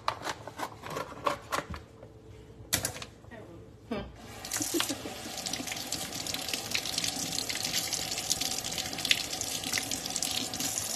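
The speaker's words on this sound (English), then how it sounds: "I'm just getting it rinsed off" Meat is handled with a few knocks and rustles, then held under a kitchen tap whose running water pours steadily and fairly loudly to the end.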